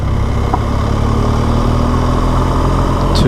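A BMW motorcycle engine pulls steadily uphill on a dirt track in Tallarook, Victoria, Australia, heard as a loud, continuous, close drone with no breaks.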